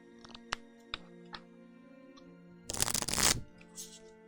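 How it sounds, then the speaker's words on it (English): A deck of game cards is shuffled during a solo tabletop board game, with a few soft taps and card handling before a loud, close riffle lasting under a second. "Go ahead and shuffle these up. Go ahead and enjoy the ASMR shuffling noise."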